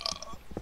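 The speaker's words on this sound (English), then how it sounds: "Can I burp?" A short, weak throaty burp from a person, close and brief, over faint background.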